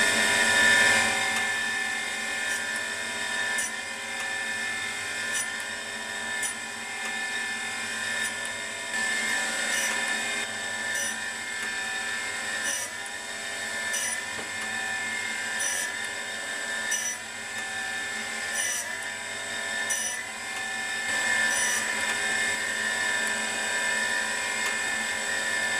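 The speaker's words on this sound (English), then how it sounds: "I'll put the vise back together, put it on the grinder, and then make those parallel." A grinder machining a metal vise to make its faces parallel gives a continuous high, whining grind. Regular faint clicks repeat through it and the level stays steady throughout, with no talking.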